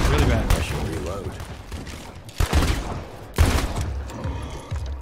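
Gunfire in the video game State of Decay 2 during a fight against a Blood Plague Juggernaut: heavy bursts of shots with two sharp, loud cracks standing out over a rumbling, busy game soundscape.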